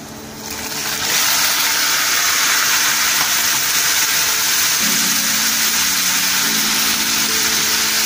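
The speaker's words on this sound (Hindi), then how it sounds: "प्याज हमारी फ्राई हो गई है, इसके अंदर कड़ी पत्ता डाल देते हैं और इसके साथ ही हम चिकन डाल देंगे" Chicken and curry leaves hitting hot oil with fried onions in a karahi, producing a loud, sudden, steady sizzle that starts after a second and continues strongly without pause.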